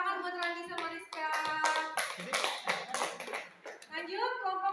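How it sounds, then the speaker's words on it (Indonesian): Classroom applause for two students, a burst of many hands clapping with dense overlapping claps, close and fairly loud, with children's voices mixed in. "tepuk tangan buat Randy sama Rizka"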